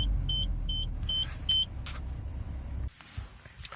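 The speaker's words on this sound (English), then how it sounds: "and start the vehicle" A 2009 Suzuki SX4 Sport sedan, started with keyless ignition, gives a run of short electronic chimes over a low idling rumble, then the engine noise drops away abruptly near the end, leaving faint cabin sounds.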